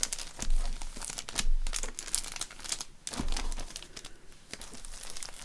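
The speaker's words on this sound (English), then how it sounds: "Let's clean this cellophane up and give it every chance." Cellophane is crumpled and crinkled up close during a craft project, loud crackling bursts that come and go in uneven waves with short pauses, no voices.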